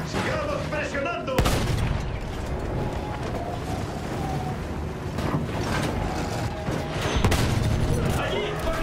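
Gunfire and explosions from the video game Battlefield 1 crack and boom amid a constant battle din, with sharp blasts standing out over the rumble and soldiers' voices shouting now and then.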